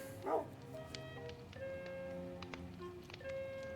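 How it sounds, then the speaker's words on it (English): A dog barks and yips a few times in a Minecraft-style game world, the calls short and somewhat distant, laid over quiet tonal game sounds with no talking. "You are now outside dogs until you can learn not to bark at me."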